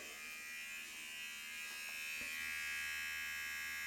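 A new Brio Axis electric hair trimmer hums steadily with a bright buzzing tone, close by and continuous, with a few faint clicks.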